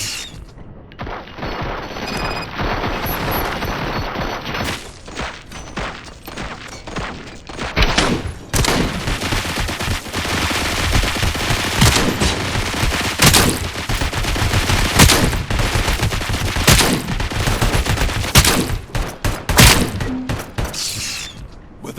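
Sustained heavy gunfire in the Robocop video game, dense overlapping shots and impacts with crashes and thuds, loud and close for the whole stretch without speech.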